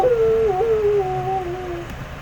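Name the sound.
recorded wolf howling sound effect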